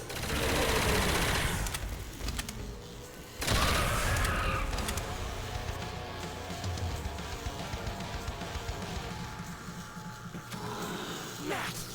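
Rapid gunfire from a wonder weapon in Call of Duty: World at War zombies on the Der Riese map, with loud dense bursts and explosions over a game music riff, continuing for most of the span.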